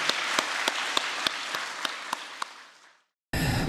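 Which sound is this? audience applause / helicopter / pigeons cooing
audience applause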